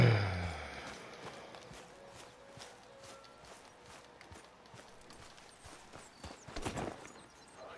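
Horse hooves clip-clop at a steady walking pace in Red Dead Redemption 2, moderately close, over quiet ambient background with a brief louder rustle near the end.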